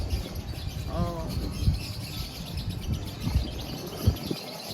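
Several birds chirp and call in an open aviary above the cruise port at Costa Maya, brief twittering notes rising over a steady background murmur of crowd and ambient noise.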